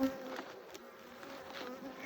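Steady, close buzzing of many honeybees, a continuous droning hum with no voices.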